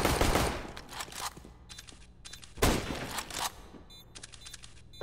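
Gunfire in the video game CS:GO, loud bursts of rapid automatic shots in two main volleys with scattered single cracks between, up close and dominating, no talking.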